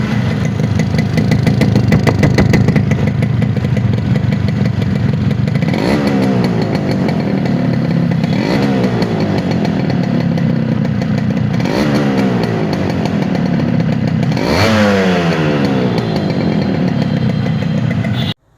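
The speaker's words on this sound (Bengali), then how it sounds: "পরে বাইকটার সাউন্ডটা শোনেন।" A Yamaha RX 115 motorcycle engine runs steadily and loudly close by, with a buzzing two-stroke tone and several throttle blips that rise and fall in pitch.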